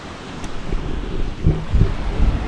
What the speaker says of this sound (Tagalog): medyo maalon din. Malakas yung current.